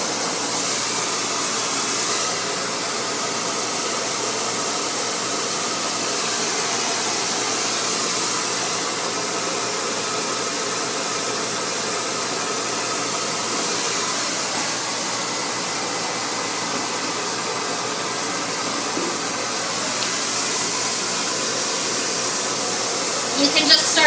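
A blow dryer runs steadily on high heat and low airflow, drying a lemon twist garnish in shape, giving an unbroken close whooshing hiss that lasts throughout.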